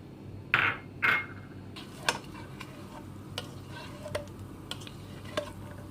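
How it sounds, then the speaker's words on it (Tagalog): Butter melting in a pan over steady heat, a constant soft sizzle with a few close scraping stirs at the start and scattered light ticks and pops afterward. "So first, mimelt po natin yung ating butter."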